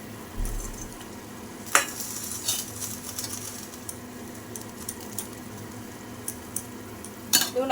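Veg kofta balls fry in a pan with a steady, close sizzle, broken by a few sharp clinks and scrapes of a utensil against the pan.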